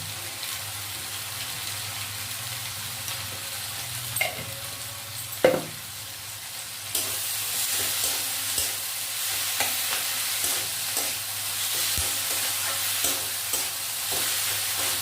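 Ginger-garlic paste sizzles steadily in a hot pan for a Bengali lote fish chop, with a spatula scraping and stirring at intervals and a few sharp clanks against the pan, close and fairly loud.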